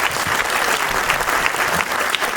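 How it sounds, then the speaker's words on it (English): Sustained audience applause at a cinema cast interview, a loud, dense and even wash of many hands clapping from a full room, with no break. "I would really like everybody to give Sammy a round of applause."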